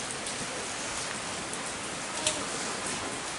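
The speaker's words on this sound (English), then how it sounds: "It's raining." Steady rain falls outdoors during a rainy-day visit in Boise, a dense continuous hiss of drops on surfaces with one brief sharper tap, and no talk over it.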